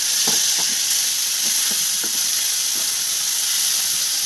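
Fish pieces fry in a small amount of oil in a non-stick pan, giving a steady, close sizzle and hiss throughout with a few faint clicks and stirring taps.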